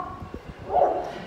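Parrot at a bird show imitating a big dog's bark, giving a few soft low woofs followed by one louder bark, close by.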